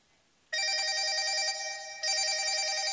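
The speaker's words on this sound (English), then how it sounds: "It's actually just a simple ring, like a house phone ring." A simple ringtone like a house phone ring sounds in two steady electronic ringing bursts, loud and close, with a brief dip between them.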